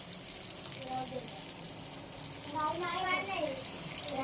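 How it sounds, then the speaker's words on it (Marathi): Kupa fish frying in a pan, a soft continuous sizzle and crackle that swells slightly near the end, with faint voices and clatter alongside. "मित्रांनो बघू शकता तुम्ही सुंदर असे मासे फ्राय होतात आपले."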